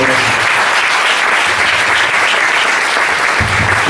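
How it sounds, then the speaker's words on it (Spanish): A church congregation applauds loudly during an evening service, a dense, roaring wall of clapping that fills the room and sustains without a break. "Denle un aplauso grande al Señor en esta noche."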